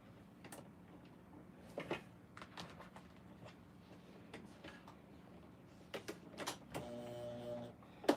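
A sewing machine stitches a quarter-inch seam through fabric strips backed with fusible fleece, with faint clicks and taps before a short whirring run near the end, all quiet and close.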